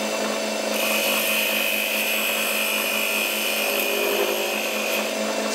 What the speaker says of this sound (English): First I will clean it a little bit with a spindle gouge.